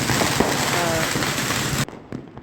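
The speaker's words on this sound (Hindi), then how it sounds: "तो रास्ते भर तो आतिशबाजी जो देखने लायक थी गजब" Diwali fireworks and firecrackers crackle and pop densely in a continuous barrage, loud and close, then cut off abruptly near the end leaving a few faint distant bangs.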